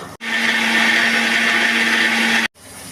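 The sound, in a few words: mixer grinder grinding spice paste with fried onion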